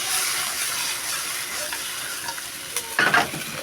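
Duck kaldereta ingredients sauté in a hot pan, giving a steady close sizzle broken by a few stirring clatters near the end.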